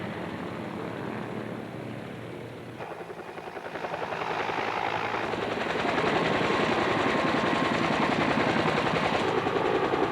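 An Iroquois helicopter's rotor thumps steadily at an airshow in Wanaka, New Zealand, growing louder as it approaches and holding a strong chopping roar overhead.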